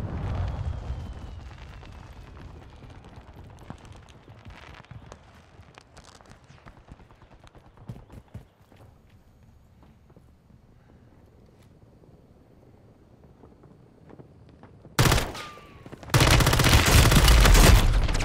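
Gunfire and explosions in the Call of Duty video game: scattered shots over a low rumble, then a sudden loud blast near the end followed by a sustained, dense roar of heavy fire.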